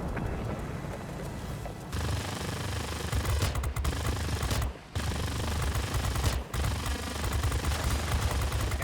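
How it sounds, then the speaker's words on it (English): Streams of .50 calibre machine guns fire in long continuous bursts in the video game World of Warplanes, a dense rattling roar with brief pauses between strings of shots. "That stream of 50 cals just melting that heavy fighter"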